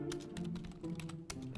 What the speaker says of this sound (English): Oh, he's just typing away.